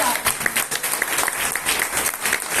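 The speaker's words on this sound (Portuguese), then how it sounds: "queria pedir uma salva de palmas" An audience at an event on women and leadership in positions of power applauds a federal deputy, a loud, sustained burst of clapping with bright slaps throughout and a murmur of voices beneath.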